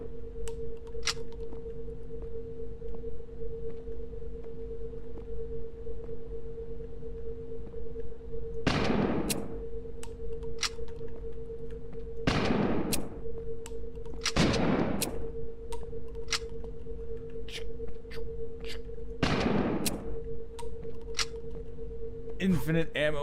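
Gunfire in a survival video game: four separate heavy shots at irregular intervals ring out loud over a steady electronic hum, with sharp clicks scattered between them.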